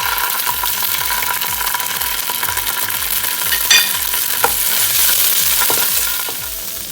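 Sliced red chilies sauté in a hot pan with small onion, giving a loud, steady sizzle close up with occasional stirring scrapes and faint background music.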